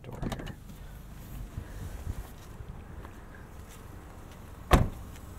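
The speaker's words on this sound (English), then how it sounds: "And we'll unlock the door here." A 2022 Infiniti QX55 door unlocks with a single sharp, close click-clunk, preceded by quiet ambient hum and a few faint knocks.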